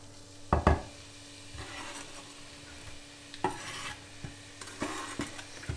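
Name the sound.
spring onion, garlic, red onion and chili frying in pan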